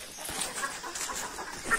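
Chickens in a coop cluck softly and intermittently, with faint scattered calls and rustling close by and no speech.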